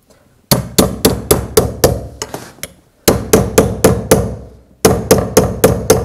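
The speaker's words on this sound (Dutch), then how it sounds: "En dan pak je een hamer en dan ga je daarop slaan in het midden." A hammer taps on a finger ring stuck on a knuckle, striking it in the middle to spread it open: three bursts of light, rapid, evenly spaced metallic strikes, each run of five to seven close-up taps separated by short pauses, with no talking.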